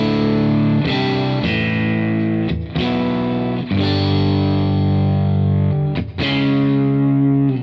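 An electric guitar played through a Friedman BE50 Deluxe amp with the gain cranked rings out in sustained, crunchy distorted chords. Each chord is struck anew several times, loud and continuous, with no talking.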